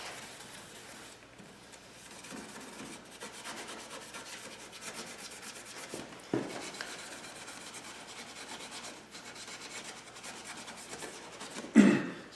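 Steady rubbing and rasping of abrasive scuffing across the painted body panels of a 2014 Jeep Compass Trailhawk before masking, a continuous close scratchy texture with a louder scrape near the end, no talking.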